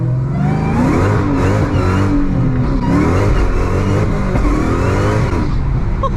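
Hard acceleration from a 6-speed manual Hellcat Charger, a loud, close engine roar climbing through the revs with crackling little backfires, steady and dense from start to finish with no talk.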